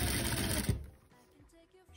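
A sewing machine runs a short fast burst while stitching bias binding onto fabric, stopping after under a second and leaving quiet handling sounds.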